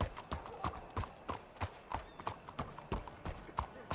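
Horse hooves clip-clop in a steady, regular rhythm in Red Dead Redemption 2, with a sharp, close beat of about three steps per second and no other sound.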